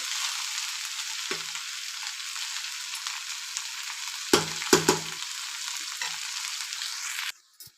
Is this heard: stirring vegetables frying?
yes